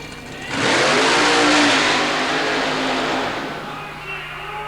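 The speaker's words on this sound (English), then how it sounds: "watch her hard on the brakes in the AMC-powered machine" AMC-powered super modified mud racing car at a 1990 Baltimore event: a loud engine roar swells quickly and holds for a few seconds, then eases as the car brakes hard, heard fairly close.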